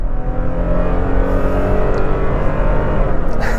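Toyota Tacoma TRD Pro with a 3.5-liter V6 and six-speed automatic accelerating hard on dirt, a loud, continuous engine drone that climbs with gearshift breaks, heard from inside the cab.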